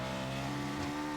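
Racing car engine in a racing video game tribute race for Niki Lauda, a steady droning engine tone with strong harmonic whine, held at a constant pitch and heard faintly.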